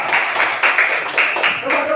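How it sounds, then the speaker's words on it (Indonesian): Students in a classroom clap their hands together in several quick bursts, a loud, close patter of applause that rises and falls, with voices mixed in underneath. "Kamu tepuk tangan coba."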